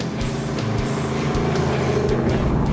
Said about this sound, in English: 468 cubic inch Big Block Chev.